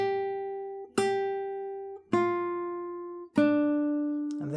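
Acoustic guitar picks out one bar of the Jingle Bells melody, four clear single notes plucked one at a time with even spacing, each ringing and slowly decaying, close and alone with no talking.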